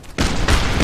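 Gunfire in the video game Operation Flashpoint: Dragon Rising, a loud close burst that erupts abruptly and rolls on in a dense, booming volley for under a second.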